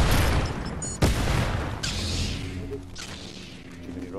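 Rocket explosions in a Fortnite duo build match, a sharp loud blast followed by rumbling booms, whooshes and scattered gunfire-like bursts that fade gradually over several seconds.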